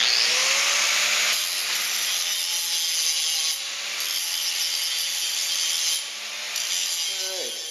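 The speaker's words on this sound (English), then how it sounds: "Just got to clean her up with the grinder here now." Angle grinder cleaning and blending fresh welds on steel tube fenders for a Jeep JK, a loud, steady whine running nearly nonstop with slight dips in pitch as the disc bites, close by with no talk.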